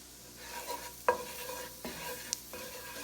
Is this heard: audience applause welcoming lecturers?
no